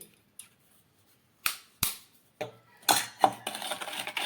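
A utensil clacks against a bowl while strawberry sponge cake batter is mixed, a string of sharp, separate knocks that start sparse and come faster toward the end, close and fairly loud.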